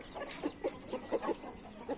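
On a hot day, an Indian game rooster clucks in a series of short, soft, rhythmic notes nearby, about eight quick clucks in a row over a quiet background.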